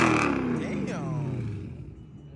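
A straight-piped Dodge Demon with a high-flow exhaust roars loud and close, its engine note sweeping down as the rev falls, with people talking and exclaiming over it.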